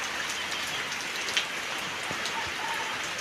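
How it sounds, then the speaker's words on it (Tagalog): Steady, heavy rainfall hisses continuously, a dense wash of drops hitting surfaces with no voices, after a sudden downpour. "Bigla po ang lakas ng ulan"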